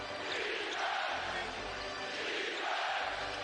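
Dense, roaring basketball arena crowd cheering and shouting at a playoff game between the Detroit Pistons and New York Knicks, right after a seven-foot center's tip slam dunk, a sustained wall of voices swelling and falling.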